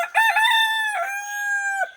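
A rooster crows once, close and loud, with a long drawn-out harmonic call that holds steady before trailing off, heard alone with no talking.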